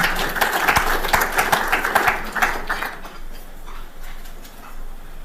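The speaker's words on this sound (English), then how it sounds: "If we could just give them a warm clap" Audience at a WRC Safari Rally event gives a round of applause, a dense patter of clapping that is loud at first and then thins out into scattered claps and room noise.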